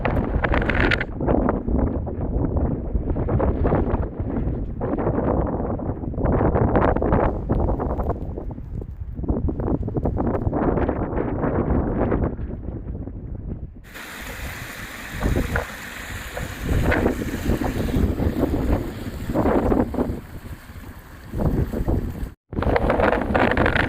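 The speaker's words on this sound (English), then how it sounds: "the wind's not so bad here" Strong wind buffets the microphone on a hillside near Bowscale Tarn, roaring and gusting loudly and continuously at close range in cold, snowy conditions.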